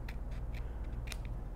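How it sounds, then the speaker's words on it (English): Several short crisp snips from fine-tip scissors trimming paper for a card, spaced irregularly over a low steady background hum. "I'm just going to take my fine tip scissors and I'm just going to trim off"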